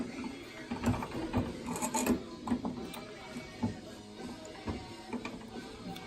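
Wrench clicking and grinding against a table saw's arbor nut as the blade nut is loosened, a close series of uneven mechanical ticks and scrapes with no talking.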